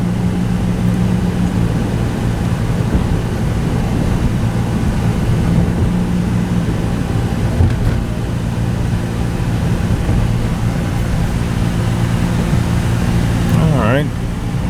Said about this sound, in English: Drives pretty good. AC's getting nice and cold.